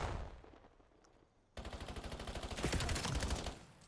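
Gunfire in a competitive video game match: a single shot fades, then a sustained rapid burst of automatic fire rattles loudly with a steady rhythm.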